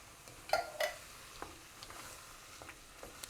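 Diced fire-roasted tomatoes are stirred into a simmering vegan gumbo in a pot, giving two short sloshing scrapes near the start, then a soft, steady sizzle and faint patter underneath.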